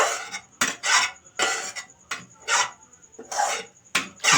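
Flour being stirred and roasted in a pan while making Kathiyawadi-style stuffed brinjal curry: repeated scraping strokes of a spoon across the pan, about eight rhythmic scrapes with light metallic clinks, close and fairly quiet.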